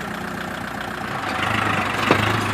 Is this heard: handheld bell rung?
no